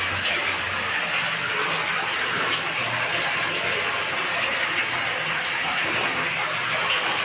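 Water gushing from a borewell pump on a farm field, a constant loud roaring rush that holds steady without pause, close up and with no voices.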